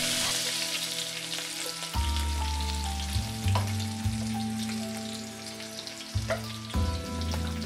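Steady sizzling of garlic frying in hot oil, with a continuous low hum and a few clinks from the pan, no voices.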